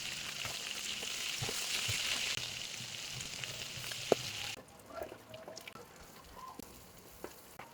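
Liver sizzles steadily in a frying pan while pancit is prepared, a loud dense hiss that drops to a quieter crackle partway through, with scattered small pops and no talking.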